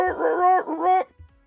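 A human voice imitates the warbling howl of a Star Wars Tusken Raider, two loud wavering cries that sound rather like a dog's howl, followed by a brief trailing breath.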